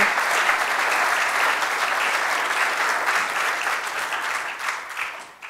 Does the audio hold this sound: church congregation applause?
yes